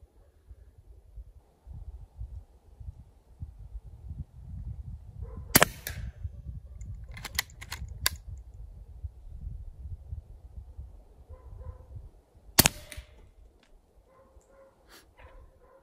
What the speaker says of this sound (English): We'll take two shots into the gel.